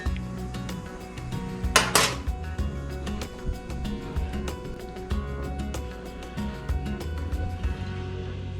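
A spoon swirls sweetened sassafras tea with agave in a cup, giving a run of quick bright clinks and taps against the sides, close and clear, with one louder rattling clatter early on.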